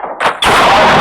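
Pistol fire in a shooting video game, a single loud sharp report that bursts in and holds as a dense blast to the end, preceded by a brief softer rustle.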